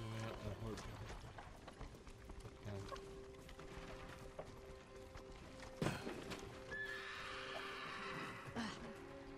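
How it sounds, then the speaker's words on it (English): Horses gallop with rhythmic clip-clop hoofbeats and whinny in the video game Ghost of Tsushima, set against a busy game soundscape with music and ambient noise, and a voice speaks briefly. "Follow those horses."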